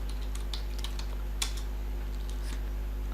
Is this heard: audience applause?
no